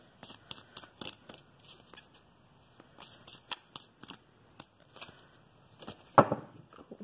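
A deck of chakra cards is shuffled by hand, giving rapid papery riffles and flicks in quick irregular bursts, close and fairly quiet, ending in a louder slap as the cards are set down.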